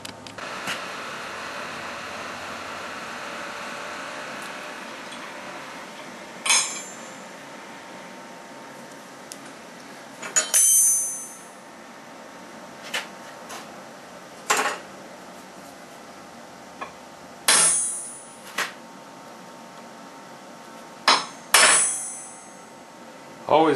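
Sharp metallic taps from a punch marking metal before drilling ring out a few at a time over a quiet steady background hum.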